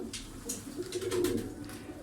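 Smoky Turkish tumbler pigeons give a low, steady cooing burr that swells in the middle, close by, with faint rustling and no talk, in a loft in Darıca.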